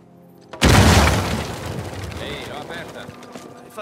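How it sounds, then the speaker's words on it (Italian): A dynamite explosion in the video game Uncharted 4 sets off one loud, close boom that gives way to a long rumbling decay and scattered debris clatter. "speriamo che si confonda con le altre esplosioni."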